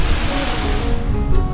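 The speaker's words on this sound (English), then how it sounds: "wind's so strong it's blown it back up the waterfall" Strong gusty wind buffeting near a waterfall in the fells, a loud roaring rush of air and water close to the microphone across the whole short moment.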